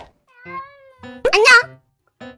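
A cat in Minecraft gives a few short, clear meows, one louder and higher than the others, with a child-like voice speaking in between.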